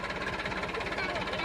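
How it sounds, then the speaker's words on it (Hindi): A tractor engine runs in a field while towing another tractor stuck with both wheels sunk in mud, a faint, even chugging drone with a regular throb and no speech. "तो उनको टोचन करने के लिए दूसरा ट्रैक्टर आया हुआ है।"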